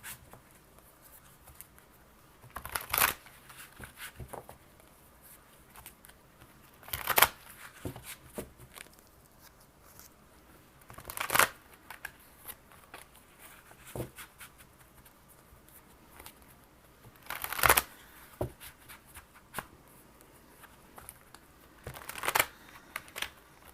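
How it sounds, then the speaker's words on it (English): Periodic bursts of tarot cards being shuffled, a soft riffling flutter every few seconds, with quiet handling noises between them and no speech. "I'm going to shuffle some cards for the general reading."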